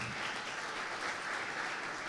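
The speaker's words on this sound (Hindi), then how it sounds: "एक दफा फिर जोरदार ताली।" A church congregation gives a steady round of applause, an even, moderately quiet roar of many hands clapping with no speech.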